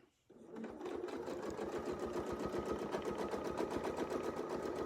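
Sewing machine stitching a quilted wreath design, running steadily and close with a rapid, even needle rhythm after a brief quiet start.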